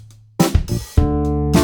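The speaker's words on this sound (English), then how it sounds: "Without any processing, the Reed 200 sounds like this." Dry, unprocessed Reed 200 instrument plays a few short, bright sustained notes with sharp attacks, close and clear with nothing else audible.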